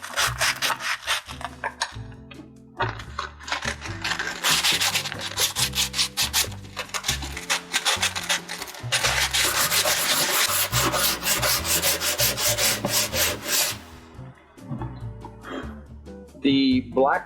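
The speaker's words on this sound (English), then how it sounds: "I am taking some sandpaper to begin with, and I am going to sand this rust down" Vigorous hand sanding of rust and black paint off a steel harpoon with 120-grit sandpaper, rapid scraping strokes close up and loud, pausing briefly around the middle and near the end.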